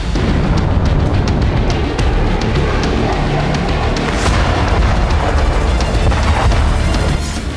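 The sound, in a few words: explosions from missile strikes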